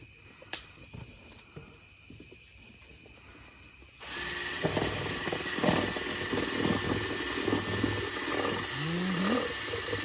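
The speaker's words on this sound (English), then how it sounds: "Wooden spoon on a Black & Pecker drill." A power drill fitted with a wooden spoon suddenly whirs to life and runs steadily, loud and close, with a grinding, churning texture as it stirs pancake batter while camping.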